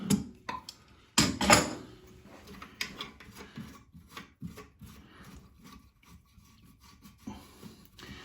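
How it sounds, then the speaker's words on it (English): A channel lock pliers working a nut loose from an old toilet fill valve makes scattered metallic scrapes, rubs and small clicks, with one louder grating burst early on, all close and fairly quiet. "So then I just grab this nut and just spin it counterclockwise to take it out."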